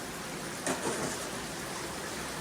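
Steady hiss of rain falling, even and unbroken, with a couple of slightly louder spatters near the start.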